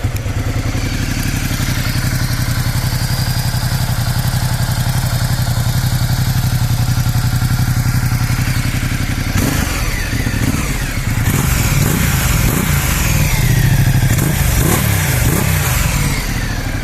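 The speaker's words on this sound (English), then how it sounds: "There she is, guys. The sound of the Multistrada 1200." A Ducati Multistrada 1200 with its stock exhaust fires up and idles, a loud, close, steady mid-pitched engine rumble that turns rougher and more uneven partway through.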